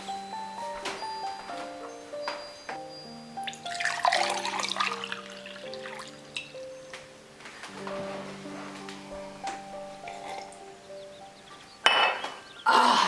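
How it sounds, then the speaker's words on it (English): Water runs and pours into a glass in a home kitchen, with light clinks of glassware and a brief louder splash near the end, set against steady background music. "I'm gonna get something to drink."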